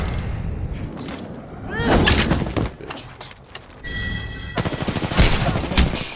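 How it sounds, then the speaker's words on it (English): Automatic gunfire in the game Apex Legends, rapid bursts of shots cracking close and loud in several volleys, with a brief lull and tonal game effects in between. "Taking fire."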